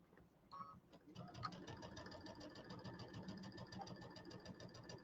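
A domestic sewing machine stitches fabric pieces for a quilted table topper, a quiet, rapid, even mechanical chatter that starts after a brief pause and runs steadily to the end.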